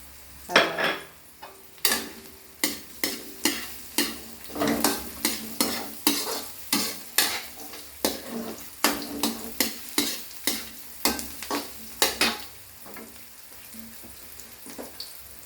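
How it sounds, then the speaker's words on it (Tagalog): Garlic sautéing in a pan for lumpiang shanghai, with continuous sizzle and a regular run of sharp spatula clacks against the pan, about one every half second, close and fairly loud. "Ito yung bawang. Igisa ko na siya."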